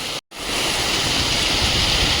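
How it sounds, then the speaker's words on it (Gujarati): Heavy rain pours down on a residential street, a dense steady roar of falling water with a brief dropout near the start and no voices. "બહુ મસ્ત વરસાદ વરસી રહ્યો છે."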